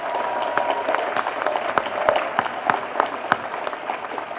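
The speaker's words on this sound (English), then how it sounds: "give another round of applause to everyone" A student fashion show audience at an art institute gives a sustained round of applause, many hands clapping steadily at moderate loudness with sharper individual claps standing out near the end.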